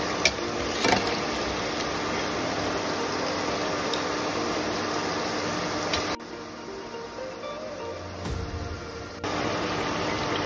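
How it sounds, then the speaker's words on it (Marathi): Soaked chana dal puris deep-frying in hot oil, meant for sweet laddoos, give off a steady, dense sizzle that drops briefly near the six-second mark, then surges back near the end. "इथं आता आपल्याला या गोल्डन ब्राउनिश होईपर्यंत तळून घ्यायचे आहेत"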